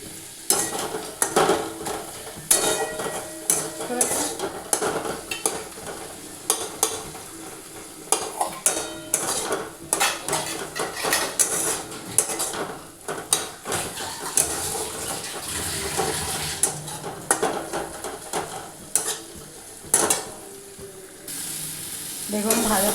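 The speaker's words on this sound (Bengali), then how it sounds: "এবারে সবগুলো মিশিয়ে ভালো করে ভাজবো" Prawns fry in a pan with turmeric, salt and Kashmiri chili powder, giving a loud close sizzle broken by frequent sharp scrapes and clanks of a spoon stirring against the pan, with almost no talk.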